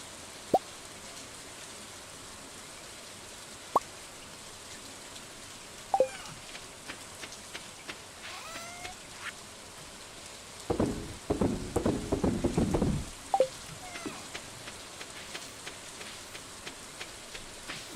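Rain falling in the farming game Stardew Valley, a faint steady patter with occasional louder drips and plops, plus a brief cluster of sharper taps midway.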